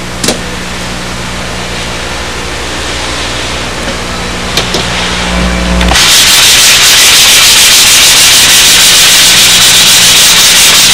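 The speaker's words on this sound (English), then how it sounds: "All I'm doing is trying to get a light sanding on them. The 320, so I can get an even joint." Glued-up model-aircraft skin sheets for a Windy Sidewinder being lightly sanded with 320-grit paper, a steady loud rubbing hiss that swells into a much louder, broader continuous sanding noise about halfway through, with no voices.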